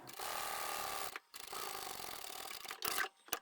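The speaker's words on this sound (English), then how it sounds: "we're going to sew straight along this edge here" A sewing machine stitches straight along a fabric edge, running in two steady bursts separated by a short pause, then a brief final run and stop, close and fairly quiet.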